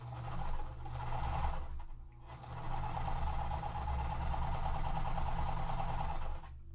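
A hand-cranked sewing machine stitches fabric half square triangles for a quilt, a steady mechanical whir running for several seconds with a brief pause partway, close and alone.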